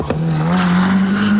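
A Mitsubishi Starion production touring car from 1987, fitted with a qualifying engine and Yokohama tyres, races flat out, its engine holding a loud, sustained, high-revving drone close by.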